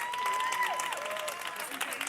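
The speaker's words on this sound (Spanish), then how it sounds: "aplausos por favor" An audience claps steadily throughout, a brief round of applause heard with a voice briefly over it.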